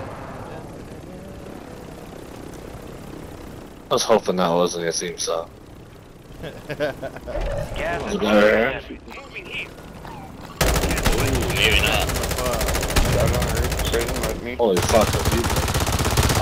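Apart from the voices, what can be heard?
helicopter swooping by with gunfire in a video game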